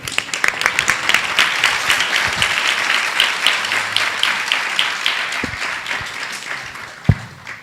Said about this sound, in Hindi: I think clapping means you will be doing it.